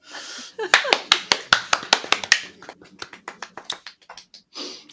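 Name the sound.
podcast hosts clapping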